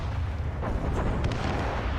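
Naval cannon fire in the game Assassin's Creed Rogue, heard as a steady low booming rumble with a couple of sharper bursts near the middle, continuous and fairly loud across the short stretch.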